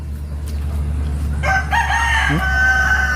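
A rooster crows once, loud and fairly close, over a steady low background hum.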